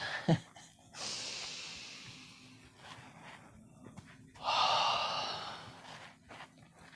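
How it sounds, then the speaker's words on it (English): A long, breathy yawn drawn out over a couple of seconds, followed by a second airy exhalation, close and fairly quiet with no talking. "I've got a yawn today."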